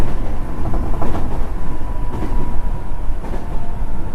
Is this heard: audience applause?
no